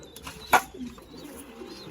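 A pigeon coos softly nearby, a low murmuring call with a couple of brief sharper sounds.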